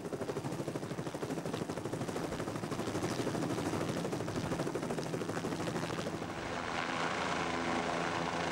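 A helicopter drones steadily with a rapid rhythmic rotor chop, loud and close throughout, easing slightly near the end.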